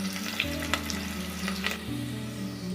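Finely chopped onions sizzle in hot oil for mushroom sambar, a steady close frying hiss with light scraping and stirring clicks, no talk.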